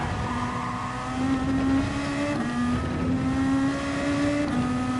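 A race car engine in Gran Turismo 7, heard from bonnet view, drones steadily at high revs, its pitch rising and dipping slightly as gears shift, loud and continuous with no talking.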